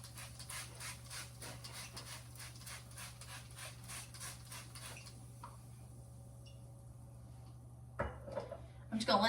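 A cloth wipes the inside of a household item being cleaned, giving soft, rhythmic, close rubbing strokes over a steady low hum that fade out midway, followed by a few light clatters.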